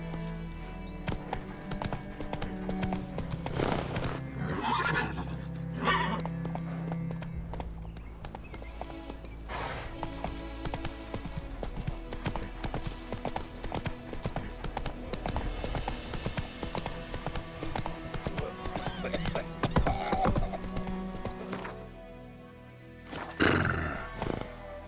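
Geralt's horse Roach gallops in The Witcher 3 game, steady hoofbeats drumming under a dense, loud bed of game music and ambience, with occasional snorts or whinnies and a quieter gap near the end.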